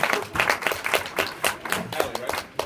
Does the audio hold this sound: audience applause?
yes